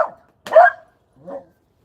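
A dog barks at a neighbor in the yard: three short, close barks spaced apart, the middle one loudest and the last one softer.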